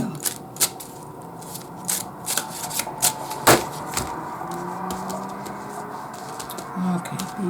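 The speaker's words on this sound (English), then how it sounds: "I'm being told to shuffle a little more" Tarot cards being shuffled by hand, a run of crisp, irregular riffling clicks and flicks at close range, with a voice speaking now and then over them.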